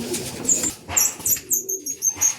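A black check racing pigeon lands at the loft in a derby race, with a burst of wing flapping, a few coos and a rhythmic series of short bird sounds close by.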